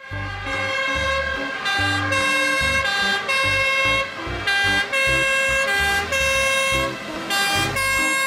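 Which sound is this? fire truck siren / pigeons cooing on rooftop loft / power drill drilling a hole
fire truck siren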